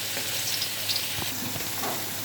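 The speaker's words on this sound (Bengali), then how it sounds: "পেঁয়াজটা আমি বাদামি করে ভেজে নেব।" Onions frying in oil in a kadai, a steady soft sizzle with faint crackle and a few light stirring scrapes, close and continuous throughout.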